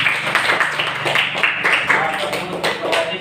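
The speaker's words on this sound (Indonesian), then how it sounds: "Kita tepuk tangan lagi untuk kelompok 2" Schoolchildren in an Indonesian classroom clap for group 2 after its presentation, a dense, steady patter of many small hands with voices mixed in.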